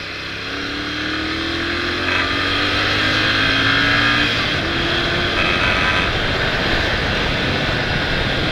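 Loud, constant roaring rush of wind buffeting a motorcycle windscreen at speed, with a droning engine hum underneath and no voices.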